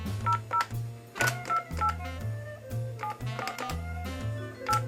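A telephone number is punched in on a keypad, a quick run of clean DTMF beeps in uneven clusters, each tone short and bright, with no voices over it.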